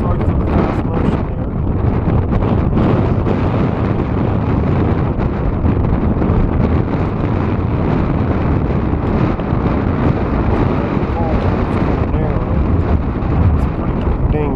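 Strong wind on Mt Whitney buffets the microphone in a loud, continuous, rumbling roar that holds steady throughout with no letup and no voices.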